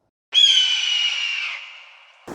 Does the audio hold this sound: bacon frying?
no